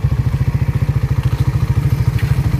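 Suzuki Raider 150 Fi motorcycle engine idling close by, a steady rapid low putter of even pulses with a light mechanical clatter, running alone without talk.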